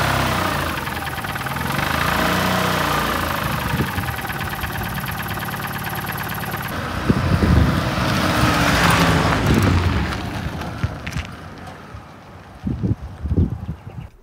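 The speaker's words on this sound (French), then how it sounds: "Lombardini Fox de 505 cm3 en bicylindre" A Lombardini Fox 505 cc twin-cylinder diesel runs at a steady idle with a continuous mid-pitched drone, joined by wind noise and a few knocks and bumps nearby.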